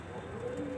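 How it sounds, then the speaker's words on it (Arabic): Pigeons cooing near a young squab being held, a brief, soft low coo over faint background noise. "زغلول صغير، هو مش رامي ولا ريشه لسه، وحطيته ومسكته"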